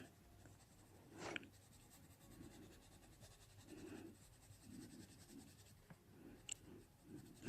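Polychromos coloured pencil working over paper on a colouring page, soft close scratchy strokes coming in short repeated passes, faint and quiet, with no talking.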